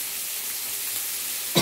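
Onion and spring onion frying in melted margarine in a pan, a steady soft sizzle throughout with a brief louder clatter near the end.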